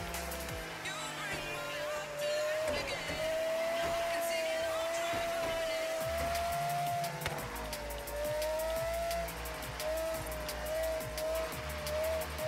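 A car engine screams at high revs in the Forza Horizon 3 racing game, a steady loud whine with a few pitch dips as it shifts, continuing without pause.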